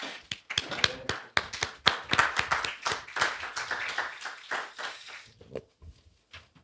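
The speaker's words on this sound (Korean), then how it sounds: "큰 박수로 우리 석학을 메시죠" A standing lecture audience welcomes Sogang University professor Jeong Hyun-sik with crisp, close hand claps, brisk and full at first, then thinning to a few scattered claps before fading out.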